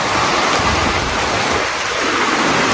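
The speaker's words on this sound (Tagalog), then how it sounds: "Grabe yung ulan mga kababayan." A steady, loud downpour hammers on metal roofing sheets and tarpaulin at a house being built, a dense continuous hiss and patter close by with no speech.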